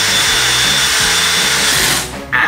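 A power drill drives screws into a wood-pattern ceiling panel on its frame, a loud steady motor whine with pulsing load changes, cutting off abruptly near the end.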